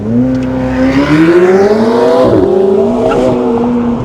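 A McLaren 750S or Lamborghini Revuelto engine drones loudly and close, its pitch rising and dipping through gear changes as it speeds around a track.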